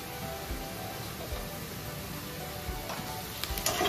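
Potatoes and onions frying together in a pan with salt and turmeric, a steady crackling sizzle throughout with occasional stirring clatter, close and moderately quiet.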